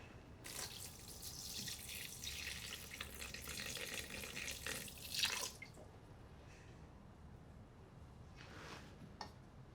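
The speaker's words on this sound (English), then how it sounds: "And put the water over the top." Water poured from above into a bowl holding a sourdough ferment, a steady splashing stream for about five seconds, then a few scattered drips and small splashes, close by with no talk.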